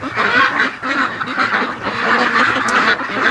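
Muscovy ducks at a lake at night, a steady chorus of fowl calls and honking-like noises close by with continuous background activity and no talking.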